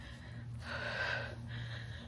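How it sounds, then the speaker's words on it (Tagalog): Someone pants out of breath while walking uphill toward a playground bench, a few heavy gasping breaths, close but faint against low background noise. "Hingal."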